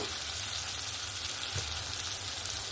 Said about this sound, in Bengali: এবার আমি ভেজে রাখা আলু আর উচ্ছেটা এখানে দিয়ে দেব